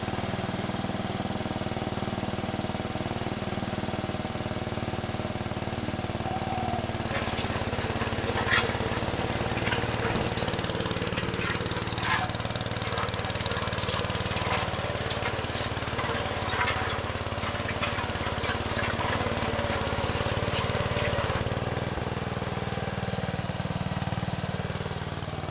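A homemade screw drive off-road vehicle runs its engine steadily while moving, a loud continuous mechanical drone with rattling and clanking over it that grows busier midway and holds throughout.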